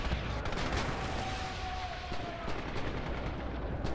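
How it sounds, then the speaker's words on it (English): Rumbling battlefield fire in a multiplayer shooter game, with continuous dense shots and low booms under a faint whistling tone, moderately loud and without pause. "Enemy artillery."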